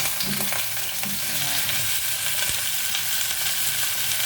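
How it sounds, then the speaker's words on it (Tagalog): Softened pork hock dropped into a pan of onions frying in oil, giving a steady close hiss and crackle with a few clunks of stirring, no voices. "ilalagay ko na itong patang pinalambot ko"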